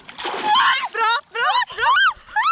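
Someone jumps into a lake for a cold November swim. A brief splash opens the sound, then high, excited shrieks and squealing voices rise over the water.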